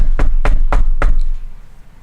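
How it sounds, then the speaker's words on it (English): Four sharp, evenly spaced knocks on a door, loud and close, a door-knock sound effect with a quiet tail after the last rap and no talk. "Someone was knocking at the door."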